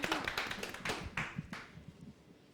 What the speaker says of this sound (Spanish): El aplauso para las iguanas que están en tus ciudades